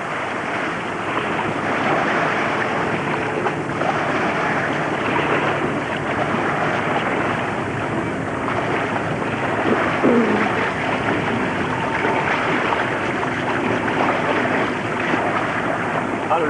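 Big ocean waves roll in along a shore, a loud continuous rush of surf mixed with wind buffeting the microphone, with no clear breaks or pauses.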